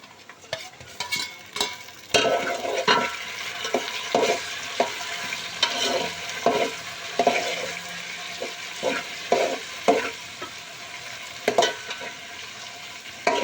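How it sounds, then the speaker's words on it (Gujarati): Tomatoes tipped into a pan of frying cashew gravy for Kashmiri chicken, with loud wet stirring strokes and scrapes in an uneven rhythm over a steady bubbling sizzle, close and without voices. "તો હવે આપણે આને છે ને હવે આપણે એડ કરી દઈશું અંદર ટામેટા."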